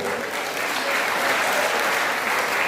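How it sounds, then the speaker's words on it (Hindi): Loud, continuous audience applause at a Hindi kavi sammelan poetry recital, a thick steady roll of clapping from a packed crowd lasting the whole moment. "आप अगर ऐसा चाहते हैं तो फिर ताली बजा दीजिए।"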